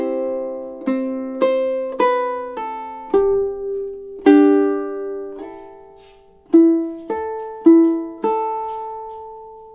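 A ukulele fingerpicks a short melody of single plucked notes and small chord shapes, each ringing and decaying, at an unhurried, slightly uneven pace, played close and clear with no voice.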